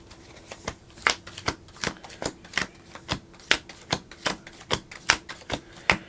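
Zombie Kittens playing cards are shuffled close up, a steady rhythmic run of crisp riffling snaps repeating about every half second, clear and alone with no talking.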